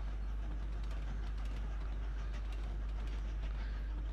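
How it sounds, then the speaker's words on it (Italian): A train rolls past in the puzzle game Train Valley, a steady rumble with faint clattering over a constant low drone, continuous and fairly quiet throughout. "vedo questo treno che ogni tanto ti spezza il ritmo"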